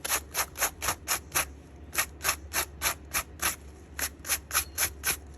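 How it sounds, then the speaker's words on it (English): Halloween 1978 Michael Myers coveralls being scuffed around the pockets for worn-in weathering: quick rhythmic rasping strokes, about twenty in short bursts, close and fairly quiet with no talking. "Just a little bit of scuffing around the pockets, just to kind of show some wear and tear."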